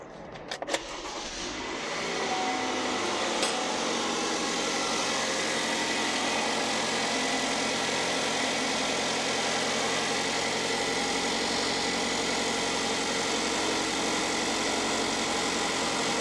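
A warm Chevrolet Malibu 2.5 engine, just repaired for a loose intake manifold, cranks briefly and catches, then settles into a steady, even idle that continues unchanged and close for the rest of the stretch.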